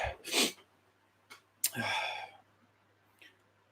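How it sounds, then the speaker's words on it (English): A single close sneeze bursts out from a man, preceded by a sharp intake of breath, followed by a breathy exhale and a faint click. "I got to sneeze."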